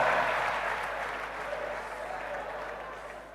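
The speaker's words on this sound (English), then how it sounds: "Can you give him a round of applause?" An audience at the Alaghodaro 2023 event in Edo State applauds steadily, a dense even wash of many hands clapping that tapers off slightly over a few seconds.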